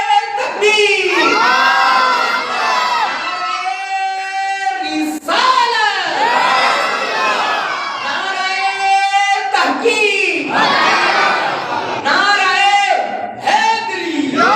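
A large crowd at a religious gathering (mahfil) roars chanted slogans in unison, loud repeated bursts of massed voices answering a lead call, with brief gaps between each response.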